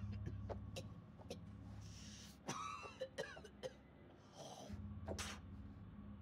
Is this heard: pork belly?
no